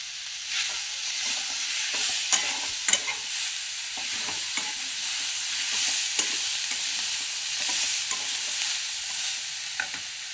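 Chickpea chole sabzi with salt, coriander and kasuri methi sautéing in a pan, a steady close sizzle broken by frequent scraping clicks of a spoon stirring through the dry curry.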